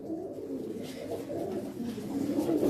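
Pigeons on a Faisalabad rooftop coo in low, steady murmurs that run throughout, close and moderately loud with no talk over them.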